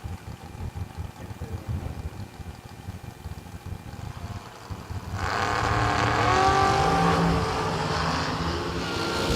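Drag race cars burble at the line on a drag strip, then launch into a loud, sustained roar of engines that swells and carries on as the cars pull away.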